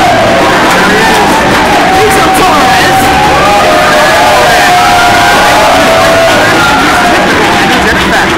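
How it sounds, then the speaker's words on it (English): A loud crowd at a wrestling show cheers and yells for a wrestler stepping into the ring, a dense, sustained roar of voices with shouts rising out of it, and talk mixed underneath. "He's getting a good reaction from the crowd as he steps to the ropes"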